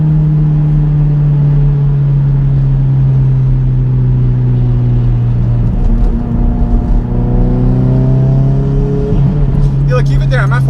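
A Mitsubishi Evo X with a 6266 Gen 2 turbo accelerates, its loud steady engine drone rising slowly in pitch from inside the car, with a voice talking over it.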